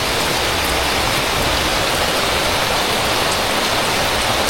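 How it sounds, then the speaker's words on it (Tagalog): Heavy rain pouring down steadily, a dense, loud, unbroken hiss of drops striking surfaces close by, with no voices. "yan ang lakas ng ulan"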